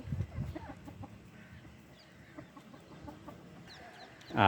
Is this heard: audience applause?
no